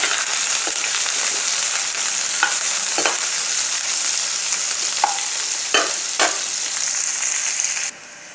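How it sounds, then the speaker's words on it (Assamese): Onions fry in hot oil with cumin seeds, a loud steady sizzle broken by several sharp scrapes of stirring, then a sudden drop in level at the end. "পিঁয়াজখিনি মই অকণ ৰঙা হোৱালৈকে ভাজি লওঁ।"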